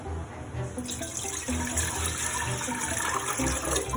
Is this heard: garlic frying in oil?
no